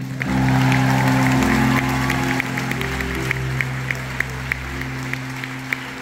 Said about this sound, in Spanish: Os pido un fuerte aplauso para José Miguel González